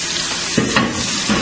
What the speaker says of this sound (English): I'm going to go ahead and add my chicken to the skillet.